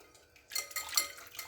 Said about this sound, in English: So here we go, put it in, beat it for a couple minutes, whisk it.